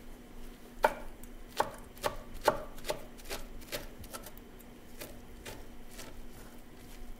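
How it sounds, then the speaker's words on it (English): A knife finely chops wilted spinach on a cutting board, quick irregular thuds, sharper strikes early and softer rapid taps later, close and fairly quiet, with no talking. "Then you're going to take a knife, and you're just going to really chop these pretty fine if you can."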